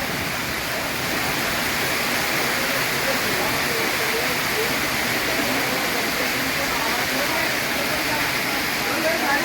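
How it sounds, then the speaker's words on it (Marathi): Heavy pre-monsoon rain pours down steadily in a dense, continuous roar that stays loud and even throughout, with no talk over it. "या ठिकाणी साधारण अर्ध्या तासापासून खूप जोरदार पाऊस चालू आहे"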